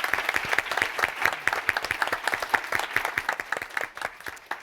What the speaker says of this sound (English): let's give one more round of applause for our panelists today.